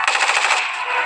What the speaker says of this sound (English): Now we got machine gun.